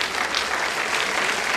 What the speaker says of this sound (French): Merci à vous deux, on peut les applaudir.